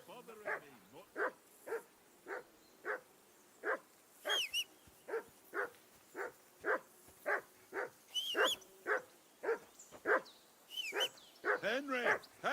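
A dog in the video game Kingdom Come Deliverance 2 barks in a steady run of about twenty short, sharp barks, mixed with a few high whimpers, close and clear.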